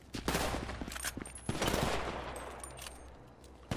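Gunfire rattles during a shootout in the video game GTA V, with several bursts of shots close together over a few seconds, fairly quiet overall.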